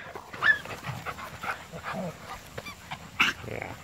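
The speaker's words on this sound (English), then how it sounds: "Yeah, good dog." An Airedale Terrier gives short barks and high whimpers, with some panting, close by amid quiet indoor chatter.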